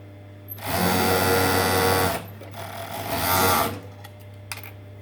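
An overlocker runs in two bursts as it sews the side seam of a knit top, a loud close buzzing whir over a steady low hum, then quieter clicks and handling.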